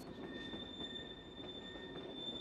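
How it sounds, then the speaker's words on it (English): A train runs steadily along rails in a film scene set on a North Pole bound train, a continuous rumbling roll with a high sustained wheel squeal throughout, fairly loud and without speech. "But what about this train?"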